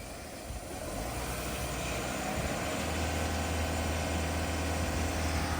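A diesel car engine with a dirty particulate filter and limp-mode warning drones steadily close by, its low rumble building slightly as it is revved gently during DIY filter cleaning.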